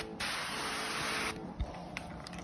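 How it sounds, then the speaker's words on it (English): VANTOOL hand sprayer releasing a fine mist: a soft, even hiss lasting about a second, then fading into quieter, scattered hissing. "And I can do a fine spray."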